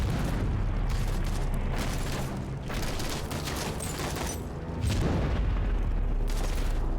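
Gunfire and heavy booms from the video game Heart of the Machine, a dense, continuous barrage of blasts and bursts that swells again near the end, with no voices over it.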